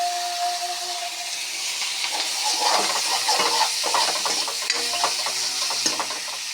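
Spices fry in oil for a drumstick and river-fish curry with tomatoes, a steady loud sizzle with hissing steam, crackles and stirring scrapes running throughout.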